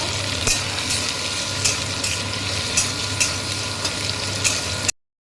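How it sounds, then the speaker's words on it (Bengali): Garlic and onion sizzle in a pan, a constant crackling fry with occasional stirring scrapes at a regular pace, fairly close, then it cuts off abruptly near the end; no one speaks. "রসুনটা একটু হালকা ভাজা হয়ে গেছে এবার আমি পেঁয়াজটা দিয়েছিলাম"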